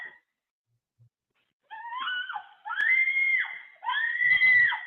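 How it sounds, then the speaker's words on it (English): A woman or girl screams during an attempted abduction in Melbourne, caught in news footage. Three long, loud, high-pitched wails follow a short silence, each sustained for about a second and rising in intensity, with no talk. "Good girl for screaming."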